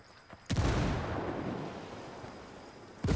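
Video game gunfire: a single sharp blast near the start that rings out in a long, dense rumbling decay, and then another sharp report at the very end, close and loud.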